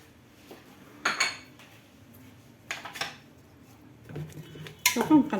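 A spoon stirring eggplant zaalouk cooking in oil in a pot: a few sparse metallic clinks and scrapes against the pot, with quiet pauses in between.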